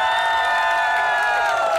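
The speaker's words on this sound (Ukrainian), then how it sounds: "Бачу оплески нашим фіналістам." A studio audience at a Ukrainian karaoke show on Maidan cheering and clapping for the finalists, a loud continuous crowd roar with whoops and shouts over dense applause.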